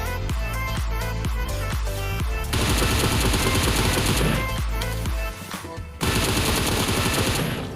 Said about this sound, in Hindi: यहाँ पे मैंने ये बंदे को घुसते समय एक हेडशॉट लगा दिया